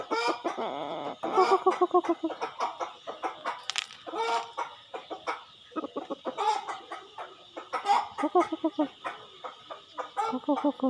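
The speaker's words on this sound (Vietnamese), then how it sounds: "đây là con gà tre đây này, cực kỳ đẹp" Bantam chickens clucking and crowing on a farm where corn is fed, close repeated clucks and a crow mixed with a person talking throughout.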